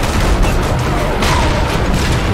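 Dense, continuous cannon booms and gunfire bursts from the video game Dark Sector, loud and overlapping with no pauses.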